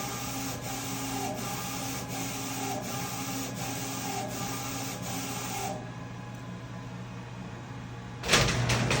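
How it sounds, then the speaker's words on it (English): Saati 8012 HD screen exposure unit finishing its cycle: a steady machine hum with faint regular ticks stops partway through, then a short mechanical whir and clunk as the door opens automatically. "the machine will automatically stop. The light will turn yellow and the door will automatically open"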